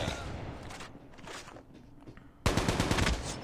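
Automatic gunfire in the mobile shooter Call of Duty Mobile on the Meltdown map, a rapid burst of close, loud shots that jumps in volume near the end, with lighter game noise before it.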